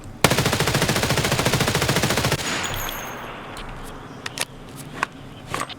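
Automatic rifle fire in Escape from Tarkov, a rapid loud burst of evenly spaced shots lasting about two seconds, then a fading echo and a few scattered clicks and handling sounds.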